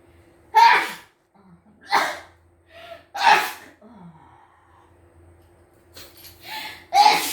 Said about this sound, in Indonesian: Tapi bersin-bersin begitu.